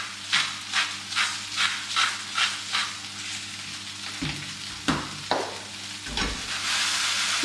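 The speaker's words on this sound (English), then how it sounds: "Give that a stir through." A spoon scrapes and stirs a potato gnocchi sauce in a pan in a steady series of rhythmic strokes over a soft sizzle. A few heavier knocks follow near the end.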